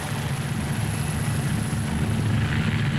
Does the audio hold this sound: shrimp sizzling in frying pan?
no